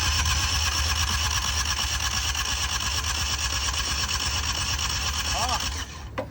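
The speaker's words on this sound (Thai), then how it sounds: "สตาร์ทรอบที่3เครื่องก็ยังไม่ติดฟังจากเสียงเครื่องแล้วเนี่ยเห มือนเครื่องจะไม่มีกำลัง" A small diesel engine is cranked continuously without catching, a steady, loud churning drone that runs several seconds before cutting off abruptly near the end.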